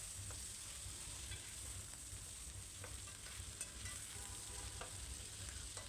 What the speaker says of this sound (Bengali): তো দেখতে পাচ্ছেন আমার চিকেনটা কিন্তু অলমোস্ট ভাজা হয়ে গিয়েছে।